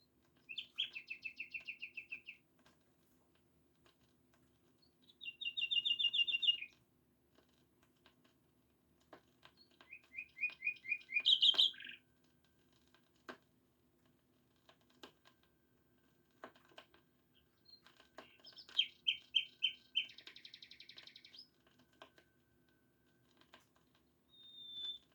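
A common nightingale sings from inside a bush in separate rich phrases of trills and whistled notes from a short distance, with pauses between phrases against a quiet background.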